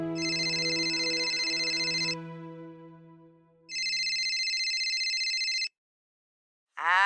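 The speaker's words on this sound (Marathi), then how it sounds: "आनंदी, तुझ्या आबांना फोन लावते ग" An outgoing phone call rings back with two long, loud electronic ring bursts separated by a pause, then a voice begins right at the end.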